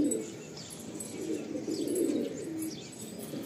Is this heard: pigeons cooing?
yes